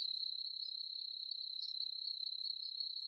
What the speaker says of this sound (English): Crickets in the background.